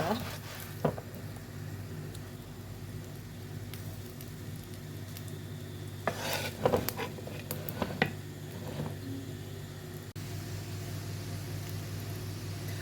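Minced-meat börek fries in a pan with a quiet, steady sizzle and hiss, broken by a few sharp pops and clatters partway through.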